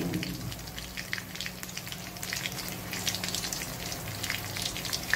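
Steady hiss and crackle of a large tilapia, about a kilo, frying in oil with onion and garlic in a Chittagong kitchen, continuous and fairly close with no talking.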